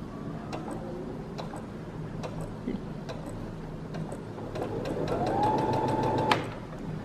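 A Brother A80 sewing machine stitches with a steady ticking, mechanical rhythm, then its pitch rises as it reverses on its own, ending in a sharp click.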